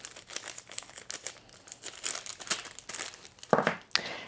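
A small plastic accessory bag holding a quarter-inch quilting foot for a Juki TL-2010Q sewing machine is handled close up. It gives irregular bursts of crisp crinkling, with a louder rustle near the end.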